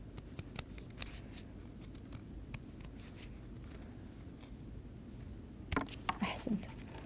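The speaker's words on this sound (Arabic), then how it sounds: "استخدمنا المقص" Scissors cut paper for a flower collage in a classroom art lesson, giving several soft snips near the start and a cluster of sharper cuts toward the end, quiet and close.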